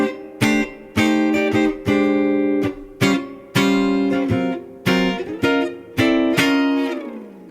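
A guitar plays the opening of a western swing solo, a series of bright, sharply plucked notes and chord stabs in bouncy bursts. The last notes ring and fade out.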